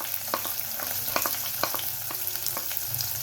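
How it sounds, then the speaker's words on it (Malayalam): Chopped green chillies and onions sauté in oil in a pan, giving a soft, steady sizzle broken by scattered clicks and scrapes of stirring. "ഇത് നമുക്ക് നല്ലോണം വഴറ്റാം. ഒരു ലൈറ്റ് ബ്രൗൺ കളർ ആവുന്നിടം വരെ ഇങ്ങനെ വഴറ്റാം."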